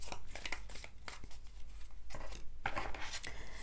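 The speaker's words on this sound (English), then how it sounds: "So let me just do a very quick shuffle." Tarot deck shuffled quickly by hand, a dense run of soft papery riffles and slaps with sharper card snaps near the end, close and fairly quiet.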